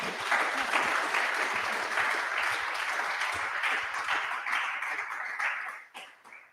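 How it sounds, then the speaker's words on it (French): An audience at an annual engineering round-table event gives a round of applause, a steady wash of many hands clapping at moderate volume that fades out near the end. "On fait un petit applaudissement peut-être."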